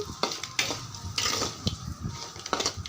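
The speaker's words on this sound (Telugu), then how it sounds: "మనం మజ్జిగ మిరపకాయలు ఇలా చిన్న చిన్న ముక్కలు చేసుకుని ఈ పోపులో వేసేసుకుని వేపుకోవాలి" Chopped buttermilk chillies fry in a hot tempering of fenugreek and garlic for a dosakaya chutney, a steady sizzle broken by repeated scrapes and stirs of a spoon against the pan, close and fairly loud.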